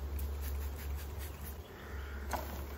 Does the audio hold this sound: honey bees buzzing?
yes